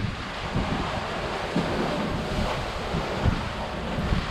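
Wind and sea while a sailboat moves at 7.5 knots in 15 knots of wind: a steady, loud roar of wind buffeting the microphone over a constant rushing wash of waves, with no voices.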